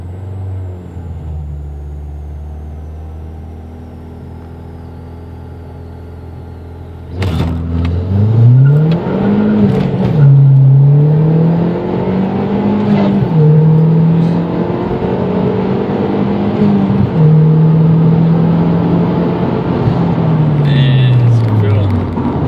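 A 2012 Mazda Speed 3 with a K&N intake and tune idles low, then launches hard at about seven seconds into a loud, sustained rising and falling engine roar with gear changes. Speech is faint underneath.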